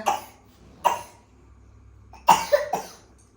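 A child coughs a few times: one cough, another about a second later, then a quick cluster of two or three coughs, close and quiet.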